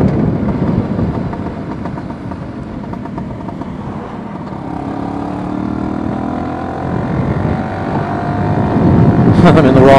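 A Vespa P200e 200cc two-stroke scooter engine drones close and loud while riding in cold air, its buzzing pitch dipping and then rising as it revs back up near the end.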